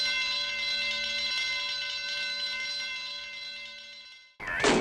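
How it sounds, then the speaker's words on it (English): An alarm ringing in a Columbo episode: a loud, steady electronic tone with layered overtones holds for about four seconds, then cuts off abruptly before a brief burst of another sound. "Somebody please, for the love of God, turn that alarm off."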